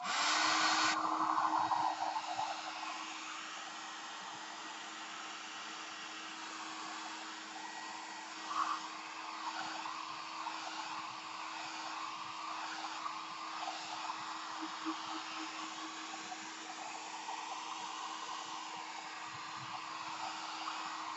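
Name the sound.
drying a file folder, likely with a hair dryer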